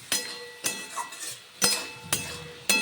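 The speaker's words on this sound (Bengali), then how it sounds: "ভালো করে নাড়াচাড়া করে করে কষিয়ে নেব 2 থেকে 3 মিনিট পর্যন্ত" A utensil clinks and scrapes at a regular pace as okra masala is stirred and fried in a pan over a medium-high gas flame. About six distinct scraping strokes sound close up, with faint sizzling between them and no talk.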